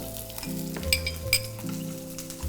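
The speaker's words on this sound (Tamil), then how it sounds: "நம்மளோட ஸ்டார் இன்க்ரீடியண்ட்டான இந்த ஷேலட்ஸை யூஸ் பண்ணணும்" Whole small shallots frying in a pan for a Nallampatti chicken roast, a continuous crackling sizzle with occasional clinks of a utensil stirring, under a steady low kitchen hum.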